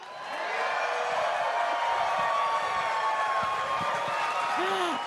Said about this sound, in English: Can we get another cheer from the crowd?